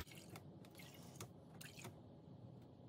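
Soft irregular drips and squelches of water falling from freshly dyed wool as it is squeezed by hand, with faint squishing between drops, fairly close and quiet.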